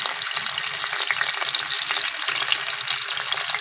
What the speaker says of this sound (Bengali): আমি ফ্রাই প্যানে মাছ ভাজছি